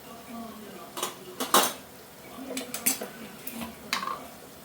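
A spoon stirring spices (chilli, coriander, garam masala and turmeric) into a field bean curry in a pan, giving scattered metallic scrapes and clinks in irregular bursts, fairly close and moderate in volume.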